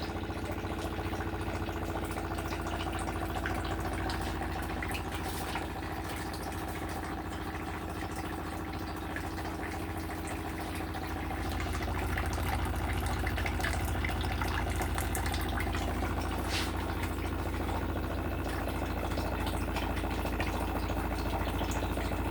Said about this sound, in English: taking off the dirty water into the sink, and the clean water through the filters to the tap